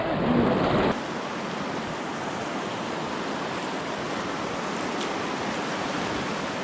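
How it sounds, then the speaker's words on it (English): River rapids on the Eno River in North Carolina rush loudly around a kayak, a dense, continuous roar of churning water that surges briefly at the start, with no voices. "So as we come down through this next rapid"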